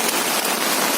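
Heavy rain pouring outdoors in Airoli, Navi Mumbai, a dense, loud, continuous hiss of water drumming on surfaces close by.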